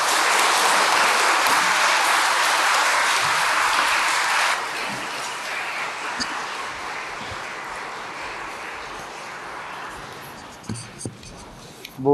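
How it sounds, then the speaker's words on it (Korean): A church congregation at a Eucharist service applauds in a dense, sustained wash of clapping that gradually fades out, with a few murmured voices near the end. "여러분 모두 함께 큰 박수로"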